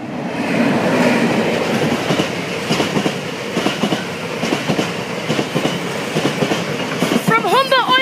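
Oil train from Humber Oil Refinery to Kingsbury Oil Sidings rolling past a level crossing, loud steady rumble with rhythmic clickety-clack of wagon wheels over rail joints and a brief squeal near the end.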